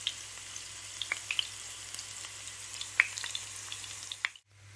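Garlic and pepper fry gently in a pan for a Korean-style salad, giving a soft, fairly faint crackling sizzle with scattered pops and light stirring clicks before a sudden cutoff.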